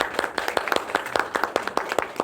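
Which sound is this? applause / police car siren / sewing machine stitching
applause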